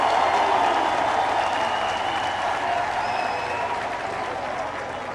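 A crowd applauds steadily and loudly at a political gathering in Libreville, Gabon, the clapping dense and sustained throughout with no voices standing out.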